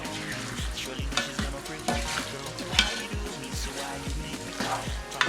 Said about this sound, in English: And you stir.